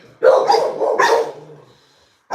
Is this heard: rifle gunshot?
no